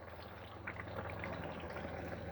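Beer-battered snapper sizzles in hot frying oil, a steady dense crackle and bubbling that swells slightly as the fish goes in and then holds at an even, close level.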